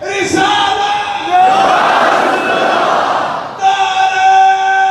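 A leader's voice calls out a religious slogan, answered by a loud unison roar from a large crowd at a Muharram majlis in a Lahore imambargah, before the lone voice resumes calling.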